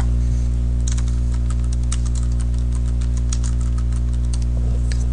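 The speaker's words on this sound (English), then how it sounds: "Let's type something here and see what happens." Keys tapped on a computer keyboard while text is typed into a drawing program, a scattered run of light clicks over a steady low electrical hum, close and fairly quiet, with no voice.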